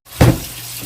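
Cold water runs from a kitchen tap over cooked lasagna pasta sheets, a steady close stream that gushes louder at first, then settles into a continuous splashing flow.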